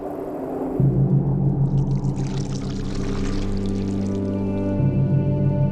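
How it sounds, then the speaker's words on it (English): A chocolate drink poured from a height between cylinder jars, making a continuous splashing, bubbling stream that runs for several seconds, close and clear with no talk. "one might be placed on the ground and the other used to pour from a height, creating this cascading waterfall of chocolate with bubbles at the bottom"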